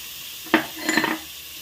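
Onion pieces and green chillies hitting hot oil with cumin powder in a pan, a short sharp sizzle followed by a brief stirring scrape, close and alone.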